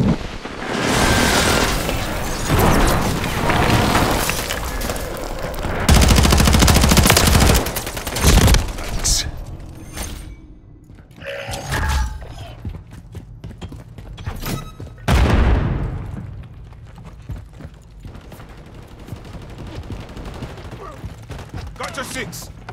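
Gunfire fills a Call of Duty: Modern Warfare III multiplayer match, with dense bursts of automatic fire and explosions, close and loud at first, then sparser scattered shots and booms, with brief voice callouts mixed in.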